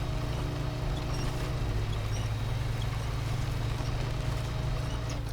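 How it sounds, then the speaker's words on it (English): A truck in the SnowRunner game grinds out of deep mud with its winch running and throttle held, making a steady low engine drone and whine that stays constant under faint clicks throughout. "Keep winching, keep driving."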